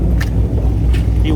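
A car spins out and revs hard as it leaves a Houston car meet, its engine roaring loud and close in one continuous, rumbling burst, with faint crowd voices underneath.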